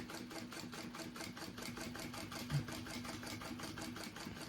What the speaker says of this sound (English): We're just gonna slow quilt this panel so you can see exactly what it entails.